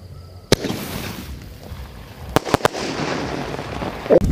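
A Malinga V4 Diwali firework shot goes off at night: sharp loud bangs and pops, several clustered together, over a continuous roaring crackle and hiss of burning.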